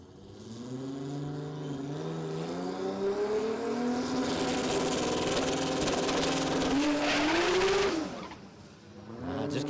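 A drag racing car launches at Warwick Dragway during an Allstars Drag & Drive event, its engine roaring loud and rising in pitch for several seconds before cutting off abruptly near the end.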